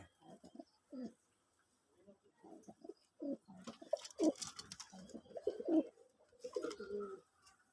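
Pakistani Giribaz pigeons cooing in a series of short, soft calls, spaced irregularly and fairly close, with some background rustle.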